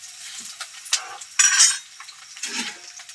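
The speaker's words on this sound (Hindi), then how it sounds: "संगवारी हो फोरन भुंजा गए हैं।" Whole spices tempering in hot oil, sizzling with bursts of crackle as a spoon stirs and scrapes the pan, metal clinks standing out close and fairly loud, no voices.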